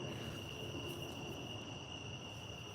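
Crickets chirp in a steady, dense nighttime chorus with a continuous high trill, faint and unbroken throughout.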